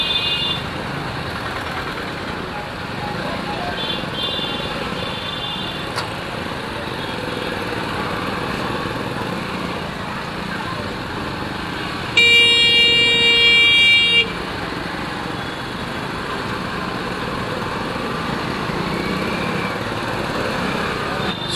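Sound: heavy morning road traffic with engines and horns

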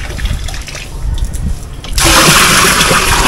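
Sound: water filling a drum

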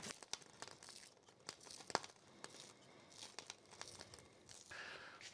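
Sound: snipping green onion with scissors

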